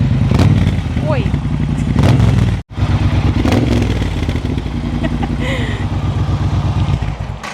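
A Triumph Bobber motorcycle engine runs close by with a chunky, pulsing idle, broken by a brief cutout, then picking back up steadily while someone talks over it.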